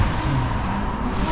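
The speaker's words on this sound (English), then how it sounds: "Bunch of angry engine noises and some smoke." Engines growling loudly nearby at a busy car event, a continuous rough, throaty roar with no voices.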